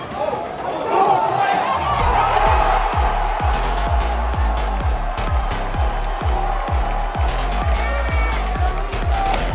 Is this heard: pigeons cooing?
no